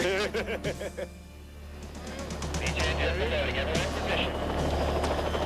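A helicopter's rotor thumps rapidly under overlapping speech, its steady chopping drone growing louder and more constant toward the end.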